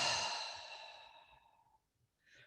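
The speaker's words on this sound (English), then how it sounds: "deep breath in and exhale" A single deep breath is exhaled slowly through the mouth, close and soft, a long airy breath fading out, followed by a faint brief breath.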